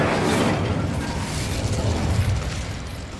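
An Incendio fire spell cast in the video game Hogwarts Legacy erupts as a loud whooshing burst of flame, then roars on steadily for a few seconds before easing slightly.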